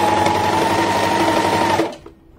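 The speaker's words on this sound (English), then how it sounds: "Jersey can be a bit of a pain to get started on the overlocker." An overlocker stitching jersey fabric runs in a steady, loud mechanical whir for about two seconds, then stops abruptly, leaving a faint quiet tail.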